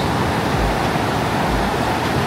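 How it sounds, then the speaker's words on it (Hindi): A river in Jibhi during the monsoon: a continuous rushing wash of flowing water, loud and close, with a low rumble and no speech. "आवाज बहुत अच्छी है, पानी की हमारी"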